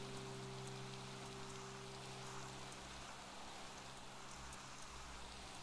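Steady, soft rain falling in the video game Minecraft, a continuous fine hiss that runs throughout at low volume, with a faint low hum underneath and no talking.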